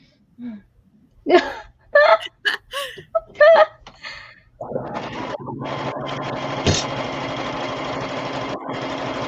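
A sewing machine runs fast and steady, stitching a bodice during a timed sewing contest, a continuous close whir that starts after a few gasping, whimpering vocal sounds.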